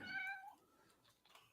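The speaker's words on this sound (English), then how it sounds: "I hear a kitty cat." A house cat gives one clear, fairly close meow that tails off, followed by faint rustling in an otherwise quiet room.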